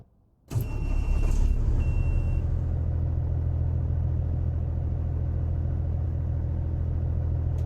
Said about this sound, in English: that N14 is purring. What a gorgeous sound.